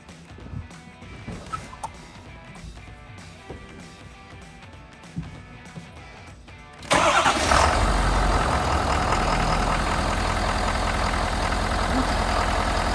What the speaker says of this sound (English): take the keys and go in the truck and hit the start button